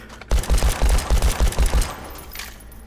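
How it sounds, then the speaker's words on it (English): Automatic gunfire emptying a full magazine in Hard Bullet VR: about eight close, loud, evenly spaced bursts of rapid shots over a second and a half, then stopping and leaving a low fading echo. "Just mag dumping on these sons of bitches"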